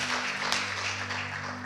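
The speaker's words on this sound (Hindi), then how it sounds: "परमेश्वर के लिए जोरदार तालियां," Church congregation at a Sunday Hindi service applauding for God, a brief, steady burst of clapping from many hands over a low sustained hum.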